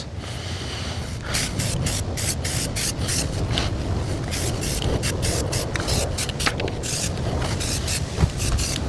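Spray paint hisses from an aerosol can onto balcony tables outdoors, in repeated short bursts of varying length, close and fairly loud over a steady background rush.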